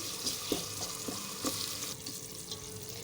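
White cumin goes into tomato mince frying in a pan, with a soft continuous sizzle and occasional scraping stir sounds, fairly quiet and without speech.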